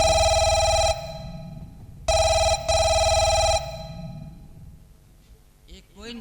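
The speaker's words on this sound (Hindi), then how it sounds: "फोन आ गया लगता है।" A telephone rings in a Hindi folk stage drama, loud electronic ringtone bursts about a second long repeating with short gaps, then fading as quieter room sound and faint voices follow.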